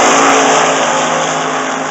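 A 1970 Chrysler Challenger 340 drag car sits at the starting line, its engine roaring loudly in a steady, sustained rev for a couple of seconds.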